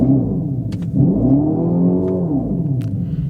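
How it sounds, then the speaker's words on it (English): A 2025 Dodge Charger Daytona in sport mode plays its synthetic exhaust tone, a steady droning hum with rising and falling pitch sweeps like revving, heard from inside the cabin with a few faint clicks. "if you pop into sport, it does do the fake exhaust"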